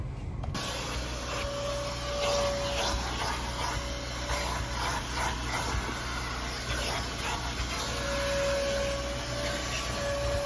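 A vacuum cleaner drones steadily throughout, a broad constant roar with a high whine on top, close and loud with no talking.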